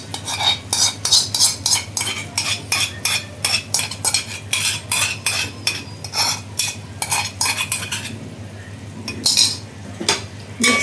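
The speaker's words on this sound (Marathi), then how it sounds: "आता इथे आपण दही टाकलेले आहे. आता हे पण परतून घ्यायचं व्यवस्थित तेल सुटेपर्यंत" A spoon stirring yogurt into oily spiced masala in a pan for vegetable pulao, with quick rhythmic scraping and clinking strokes close by over a faint sizzle, pausing briefly near the end.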